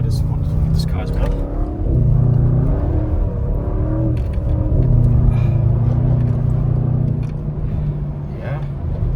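Audi RS6 C8 engine rising and falling in pitch as the car drifts through snowy corners, a loud, close rumble with revs swelling and easing, while a person talks over it.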